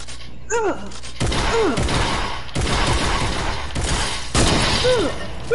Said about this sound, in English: Oh, stop spamming shotguns!